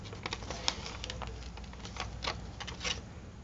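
Scissors snipping through thin magazine paper during a paper-craft session, a run of small crisp cuts and rustles close by, quiet and irregular with no talking.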